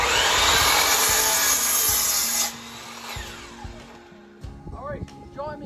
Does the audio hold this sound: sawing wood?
yes